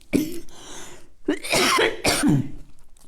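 Several harsh coughs come close together in a short burst, loud and near, with brief gaps between them.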